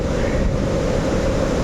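Water gushes steadily from a barrage at Srisailam, falling like rain in a loud, unbroken roar mixed with wind noise.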